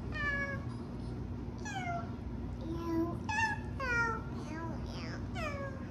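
A cat meows repeatedly, with several drawn-out, rising and falling calls spread over about six seconds, close and fairly loud against a steady low background hum.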